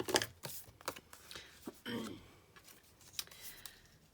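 Scissors snip excess paper while trimming a stamped Christmas card, a few quiet crisp cuts and clicks scattered among soft handling noises, close and faint.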